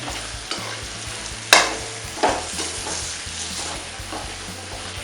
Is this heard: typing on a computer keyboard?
no